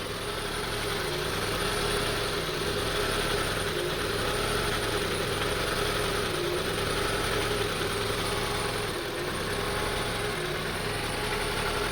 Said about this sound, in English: Rough idling. The RPM goes up and down.